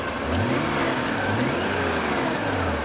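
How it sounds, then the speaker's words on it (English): Engine of a 1989 Nissan Skyline GT-R import revving at idle, a steady mid-pitched drone with a few gentle rises and falls in speed, close by and unaccompanied by talk. "if you rev the engine, the oil pressure should change"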